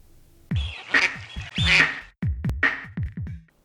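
A duck quacks repeatedly in short, loud bursts close by, in two irregular runs separated by a brief pause.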